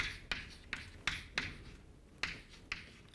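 A lecturer writes on a board with a series of sharp, scratchy taps and strokes, about seven distinct marks spaced irregularly over a few seconds, close and clear with no talking.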